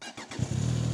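A three-cylinder motorcycle engine turns over and catches, settling quickly into a low, steady running hum, fairly quiet and close.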